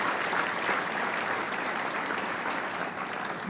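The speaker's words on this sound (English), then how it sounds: "let's go ahead and give her a round of applause" Steady, full applause from the crowd at a golf awards luncheon, a dense wash of many hands clapping evenly for several seconds with no one speaking.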